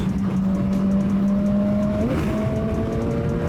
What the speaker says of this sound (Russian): иду 120, закрываю газ, он пошел в торможение